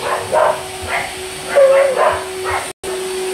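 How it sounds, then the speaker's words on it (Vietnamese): Rescued puppies in a modest home make repeated yips and whimpering barks at mid distance in short bursts. A vacuum cleaner drones steadily underneath them. "Đây là những bé cún vợ chồng Ti cứu rất là lâu rồi"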